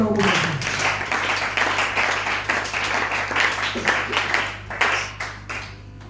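Church congregation clapping together in a steady, close, continuous round of applause that tapers slightly toward the end, with a low hum underneath.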